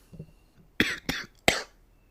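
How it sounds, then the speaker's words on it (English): Three sharp, dry coughs close by, the first two in quick succession, the third after a short pause, over a quiet background. "Finally, we got the cough."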